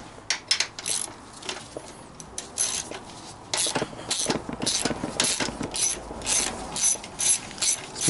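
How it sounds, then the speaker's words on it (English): Rapid ratchet clicks come in repeated bursts as two bolts are taken out on a Honda CX500 motorcycle during an ignition install, up close and fairly loud, with brief pauses between runs of clicking. "Just need to take these 2 bolts out here."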